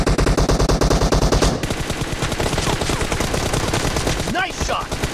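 Rapid automatic gunfire from a PUBG team deathmatch game, dense bursts of loud close shots rattling continuously, then a shift to quicker lighter firing with faint voices in the background.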